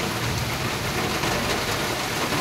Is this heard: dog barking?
no